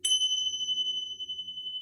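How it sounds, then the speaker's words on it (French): A meditation bell is struck once, giving a bright, clear ring that holds a long, steady tone over a quiet background. "Vous entendrez le son d'une cloche à l'occasion"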